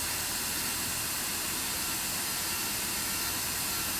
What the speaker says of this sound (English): So I can disintegrate it with this wonderful carbide burr